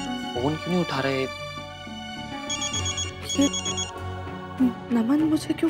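Mobile phone ringtone sounding in bursts, a repeating electronic ring under dramatic background music while someone speaks.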